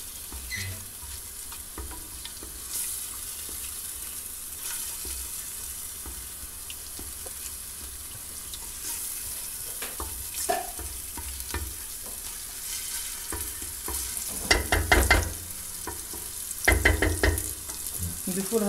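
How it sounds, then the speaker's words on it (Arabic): Tomatoes fry in oil for spaghetti sauce, giving a steady low sizzle with occasional stirring clatters and louder bursts of scraping and splashing toward the end. "هكا نقعدو نقلو الطماطم بالكدا لين تدخل في الزيت"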